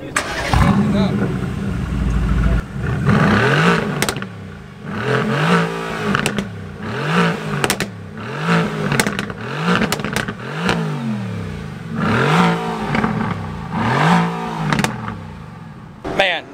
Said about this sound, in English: let's do a rev battle first